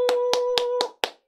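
A single person claps hands five times in a slow, even rhythm, each clap sharp and close, over a steady electronic tone that drops out before the last clap.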